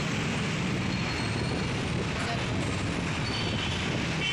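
Busy LRT-1 Monumento train station at midday, with long passenger queues: a steady, dense wash of crowd murmur and rail and traffic rumble fills the scene at an even level throughout.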